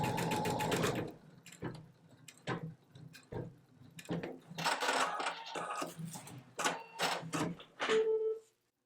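An embroidery machine stitches a design, its rapid needle rattle running in bursts with short pauses and a brief tone near the end, loud and close with no talking.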